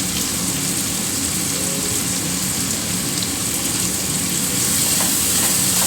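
Tomatoes with salt are stirred and fried in a pan, giving a steady, close sizzle that hisses continuously without pause for the whole stretch.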